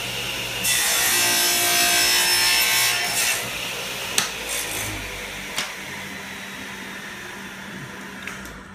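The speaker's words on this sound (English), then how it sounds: "test cut, and we're going to make our first 45-degree cut." A saw makes a 45-degree miter cut through a piece of wood, a loud close rasping cut lasting a few seconds, then tapering off with a few sharp knocks and clatters.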